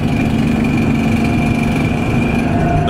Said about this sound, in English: The exhaust seems to be rattling in this thing again.